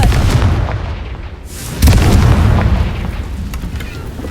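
Confringo explosion spell in Hogwarts Legacy, a single booming blast bursting in midway after a quieter stretch, then a rumbling decay with crackling debris.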